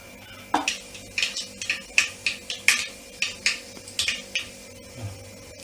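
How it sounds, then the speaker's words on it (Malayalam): Mustard seeds splutter in hot oil in a pan, giving a quick irregular run of sharp pops and crackles, near and fairly quiet, with no voices. "സാധാരണ പോലെ നമ്മൾ എണ്ണ ഒഴിച്ച് കടുകിട്ടു"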